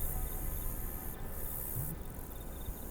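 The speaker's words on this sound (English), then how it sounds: "You hear like crickets chirping and like banging sounds." An ambient soundscape in the Left 4 Dead video game carries faint, continuous cricket chirping over a quiet background hiss, with a thin high buzz that fades in and out and no talking.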